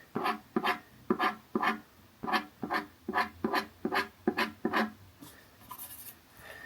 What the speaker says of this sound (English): you can literally scratch away at the coloured pencil to create your highlights